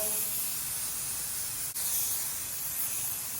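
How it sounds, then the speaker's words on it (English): A continuous aerosol of spray adhesive hisses steadily onto material for a 1969 Pontiac Firebird package tray, with one brief pause midway before spraying resumes, close to the microphone. "Just spray it on the material."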